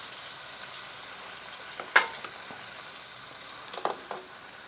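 Butter and minced garlic sizzle faintly in a frying pan, a low steady crackle marked by a couple of sharp clinks from a utensil against the pan, with no voices.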